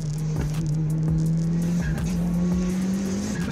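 A street racing car drives fast with a steady, loud engine drone that climbs slightly in pitch, with faint tire and road noise around it.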